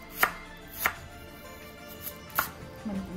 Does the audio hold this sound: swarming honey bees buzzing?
no